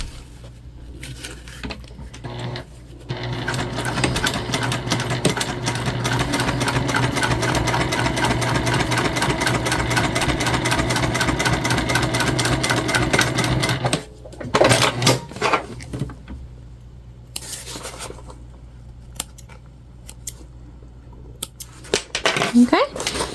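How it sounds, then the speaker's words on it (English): Sewing machine stitching straight across a fabric Kindle sleeve with a tropical print to close it, a steady rapid mechanical whir running for about ten seconds, then stopping, followed by scattered handling clicks and rustles. "And then we'll just stitch right across to close it up."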